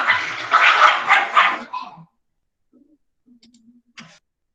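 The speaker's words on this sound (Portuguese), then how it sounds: "Quem ouviu o cachorro se matando agora aqui?" A dog barks loudly four or five times in quick succession, then falls silent except for a few faint scuffs and clicks.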